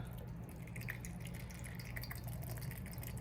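About an ounce of white vinegar is poured by eye into a bowl, a faint, steady trickle with small drips over low background noise; no one speaks.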